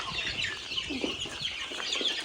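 Chickens cluck in a steady, busy stream around a farmyard where a big chicken drinks water, several birds close by with no talk over them.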